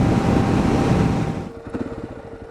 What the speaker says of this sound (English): I do notice this thing will rev out without even thinking about it